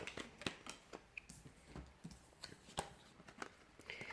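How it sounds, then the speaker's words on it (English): Tarot cards being shuffled by hand, a quiet series of soft irregular riffles, taps and slaps close by with no talking. "we'll give the cards a shuffle and see what's coming up"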